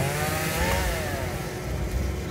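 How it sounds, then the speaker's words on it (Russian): Chainsaw cutting wood in a forest, heard as a steady, fairly faint buzzing whine from some distance, continuous throughout with no speech. "Что-то там пилят."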